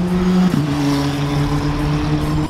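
A Skip Barber Formula 4 race car at Circuit of the Americas, heard as a loud, close engine drone held at a steady pitch. Early on there is a quick shift in tone, like a gear change, and then the strong hum continues.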